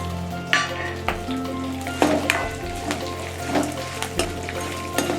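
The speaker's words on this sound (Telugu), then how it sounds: "మొత్తం వేసుకొని వేయించుకోవాలి" Green and dry chillies fry in a hot pan for a raw mango rava pulihora, with a steady oily sizzle and several sharp clinks and scrapes of stirring, close and fairly loud, with no talking.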